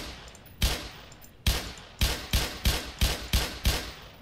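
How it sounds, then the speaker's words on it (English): Gunshots fired at a trip mine in Black Mesa, eight sharp loud reports with gaps shortening from irregular to a quick, fairly even series, no talking. "I probably am supposed to just shoot the mine."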